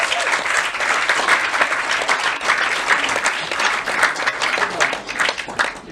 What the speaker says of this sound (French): Donc je vous demande d'applaudir s'il vous plaît Luciana País